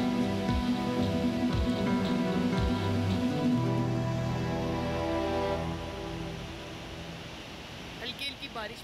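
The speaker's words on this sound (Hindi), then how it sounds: "हल्की हल्की बारिश भी हो रही है।" Light rain falling at a roadside tea stop in Pakistan, a steady soft patter under a continuous low hum that fades slightly toward the end.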